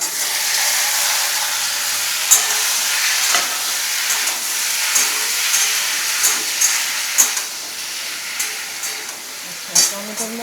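Tomatoes drop into hot oil spiced with panch phoron and sizzle loudly and steadily, with sharp crackles and spits popping up now and then through the hiss.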